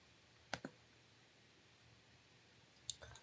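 Mouse clicks on a browser's Zotero connector button, two quiet sharp clicks about two seconds apart, close and isolated against faint room hiss with no talking.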